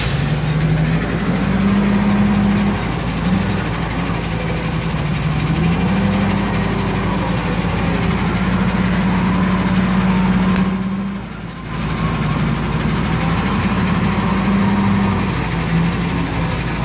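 A truck engine runs at a steady loud idle near a barge loading site, a continuous low rumble that wavers slightly in pitch and briefly dips around the middle, with no talking.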